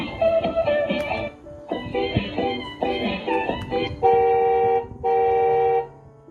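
Electronic horn and short melodic tunes from a toy ride-on kids' bike styled as a Yamaha R1 with a rechargeable battery, several bursts of beeping melody followed by two sustained steady tones, close and loud with no talking.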